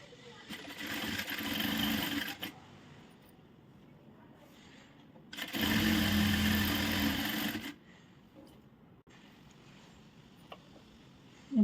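A sewing machine runs in two bursts while stitching a back-hook blouse from slightly slippery fabric, each burst lasting a few seconds with a steady whirring hum, separated by quieter pauses with faint handling noise.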